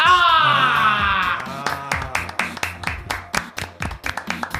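One person clapping hands in a steady, brisk rhythm of about a dozen sharp claps, close, following a voice that trails off at the start.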